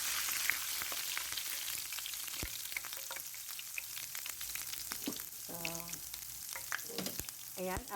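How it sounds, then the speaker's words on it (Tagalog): Chopped garlic frying in hot oil in a pan for a beef and onion stir-fry: a dense, close, continuous sizzle with scattered sharp pops and spatters and a few metallic clinks of stirring, with no talking. "nilagay ko na yung ating garlic kasi masyadong nagtitilamsik"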